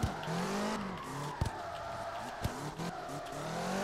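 Car reversing in CarX Drift Racing Online, with engine drone, tire squeal and skidding. Two sharp bursts stand out against the continuous motor noise, and nobody speaks.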